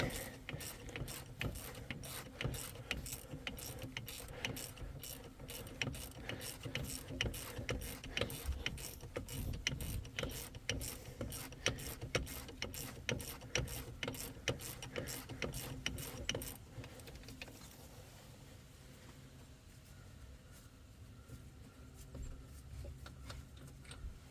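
A ratchet wrench clicks rapidly and evenly as it backs out a stiff, Loctite-coated rear brake bracket bolt on a 2003 Cadillac CTS. The close, loud clicking runs for about seventeen seconds, then gives way to quieter handling noise.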